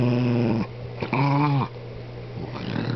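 A pug growls over a greenie chew, low rumbling snarls close up in a few bursts, with a rising whiny growl in the middle.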